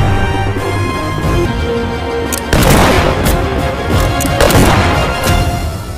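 Gunfire and blasts from a Soviet–German battle in the war film Raydovoy (Cheerin), centred on a sniper's shot, with a heavy boom near 2.5 s and another around 4.5 s over a constant loud rumble of combat, with no speech.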